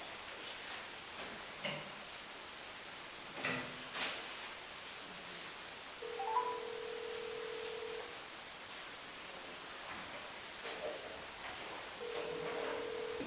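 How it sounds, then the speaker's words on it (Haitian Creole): A telephone rings faintly in a quiet room, giving short intermittent tone bursts against low background noise. "Téléphone même pour moi"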